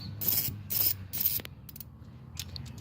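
A ratchet tightens lift bolts on a 2005 Corolla XRS, giving three loud bursts of rapid clicking up close, followed by quieter taps and metal handling.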